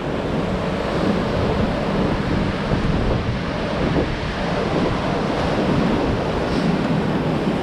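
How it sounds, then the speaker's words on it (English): Ocean surf rolls onto a beach in a continuous, steady wash of breaking waves, with wind buffeting the microphone throughout and no voices. "Like the waves, they just keep rolling in"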